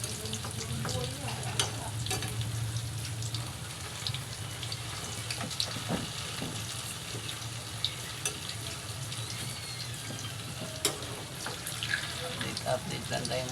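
Tofu for sisig frying in a pan, a continuous crackling sizzle with scattered sharp pops and scraping stirs, and voices talking faintly underneath.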